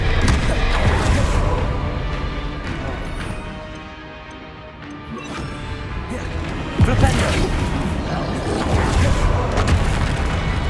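In Hogwarts Legacy a Bombarda spell goes off as a heavy booming blast over the game's loud ongoing score and battle noise, followed by a rumbling wash of sound.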